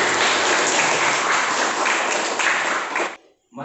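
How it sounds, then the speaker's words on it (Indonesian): Classroom applause from a group of students, lively full clapping for about three seconds before cutting off abruptly, followed by a brief faint sound. "Kita beri tepuk tangan yang meriah"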